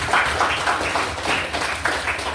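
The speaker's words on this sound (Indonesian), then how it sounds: "Kasih tepuk tangan." A school class applauds together in a short burst of brisk, dense clapping with a loosely pulsing rhythm, fairly loud and close.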